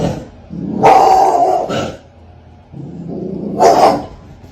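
A dog gives two long, loud, close bark-growls separated by a short pause, with no talking in between.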